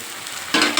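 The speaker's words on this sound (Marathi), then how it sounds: "आता हे छान हलवूया" Drumstick leaves with chickpea lentils and salt are stirred in a hot pan, a soft sizzle followed by a sudden louder rush of frying and spatula movement near the end, with no speech.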